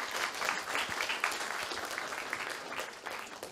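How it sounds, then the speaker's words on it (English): An audience applauds at the close of a blockchain block builders panel, a continuous burst of clapping with scattered louder claps, heard alone without talk. "Give a nice round of applause."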